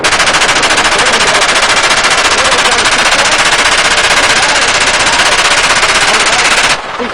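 Sustained machine gun fire from a gunship helicopter at a Las Vegas range, aimed at targets on a mountainside: a loud, dense, continuous burst of rapid shots lasting about seven seconds before cutting off abruptly, with no talk.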